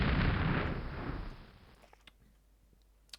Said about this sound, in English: This unit, though, can see them and will shoot at them.